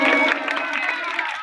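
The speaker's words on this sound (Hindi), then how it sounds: "जोरदार तालियों से स्वागत करें" A crowd at a dance program claps and cheers loudly and continuously, with shouting voices mixed into the steady din of applause throughout.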